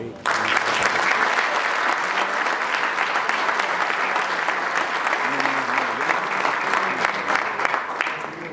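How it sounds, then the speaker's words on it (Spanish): Warm, sustained applause from the audience at a book presentation event, a thick continuous roar of clapping that holds loud and even throughout. "Esta noche debemos expresarles también nuestro cordial agradecimiento con un fuerte y caluroso aplauso."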